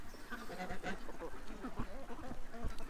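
A flock of ducks quacks in a busy, overlapping chorus, close and continuous with a faint crowd murmur behind.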